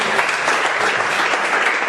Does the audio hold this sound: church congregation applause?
yes